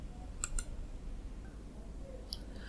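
A computer mouse clicks twice in quick succession near the start and once more later, small sharp ticks faint over a steady low room hum, with no talking.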